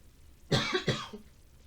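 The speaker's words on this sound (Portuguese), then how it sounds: "E aí eu fico com essa tosse" Cough from a woman with a sore, recovering throat, a short burst of two or three rough coughs close to the mic, with a smaller throat-clearing sound trailing after.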